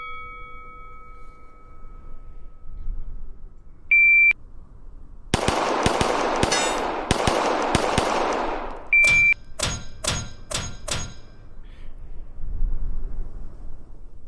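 Gunfire on a shooting range during a scored practice: a rapid string of loud, close shots, then a series of evenly spaced single shots, with electronic beeps before and between the strings.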